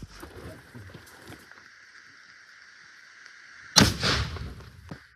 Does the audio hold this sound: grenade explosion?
yes